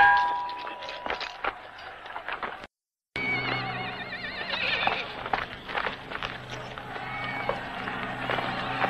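Horses neigh and whinny repeatedly amid clanking metal and clip-clopping hooves in a crowded arena-like setting from a 1963 sword-and-sandal adventure film, with a brief dropout partway through.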